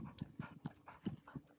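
A dog pants in quick, regular breaths during fetch training, six or seven short huffs close by and fairly quiet, with no talking.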